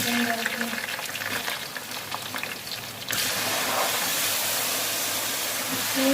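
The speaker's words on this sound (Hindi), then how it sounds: "मैं अभी चिकन डालती हूँ।" Chicken pieces going into a hot pot for Chicken Majboos, three kilos of meat, with a hissing, steaming sizzle that jumps louder midway and stays as a strong continuous hiss.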